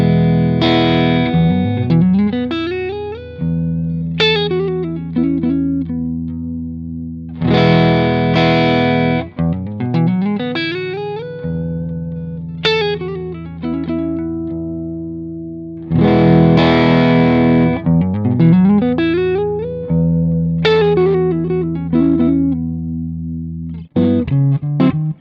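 Distorted electric guitar played through a Dumbleton-style amp while its voicing control is swept, loud repeated chord phrases with ringing sustain and audible tonal shifts between passages, no talking.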